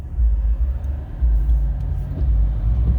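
A 2020 Ford F350 pickup with a 6.7 Powerstroke diesel and 10-speed transmission pulls away under light throttle, heard as a steady, deep, loud engine rumble from inside the cab.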